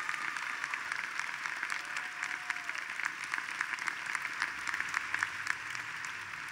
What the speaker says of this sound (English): Let's stand, let's cheer for the monumental achievements we celebrate today